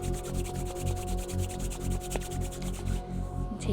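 Palms rubbed together vigorously during a yoga session: a steady, rapid swishing friction repeating in a continuous close rhythm for several seconds, with no talking, then trailing off at the end.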